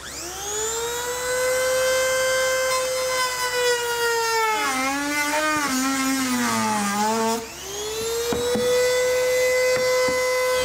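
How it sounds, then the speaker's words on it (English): A high-speed cutoff wheel trims the plastic bumper fascia of a 2020 Ford Explorer, whining at a steady pitch that dips and wavers as the disc bites into the plastic, then climbs back up, loud and close with no talking. "We're just gonna use our cutoff wheel here to trim that."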